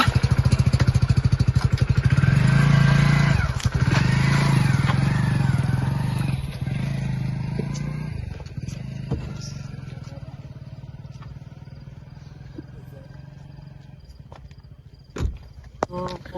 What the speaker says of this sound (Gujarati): અને હું બાઇક લઈને નીકળું